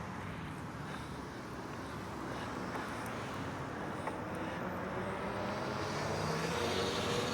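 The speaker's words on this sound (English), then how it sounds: "there's way too many cars out here" Cars passing on the road beside an e-bike rider out in cool weather, a continuous low roar of traffic that slowly swells louder toward the end as vehicles draw closer.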